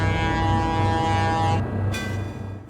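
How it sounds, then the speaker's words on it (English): A train horn blows a long, loud, steady blast on a Milwaukee Road line, cutting off briefly and then sounding again, with no voices present. "the Bipolar Express let out a loud blast from its horn"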